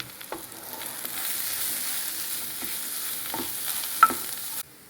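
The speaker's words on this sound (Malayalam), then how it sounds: "നമുക്ക് ഒന്നുകൂടി വഴറ്റാം." Turmeric, plain chilli powder and Kashmiri chilli powder frying in a pan for a squid dish, a steady close sizzle with several sharp scrapes of a spatula stirring, then cutting off abruptly near the end.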